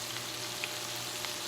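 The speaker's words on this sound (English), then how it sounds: "So I'm just gonna drop these in, and you can see they're gonna sizzle right away" Green beans frying in hot oil, giving a steady, even sizzle with faint crackles, heard close up and alone.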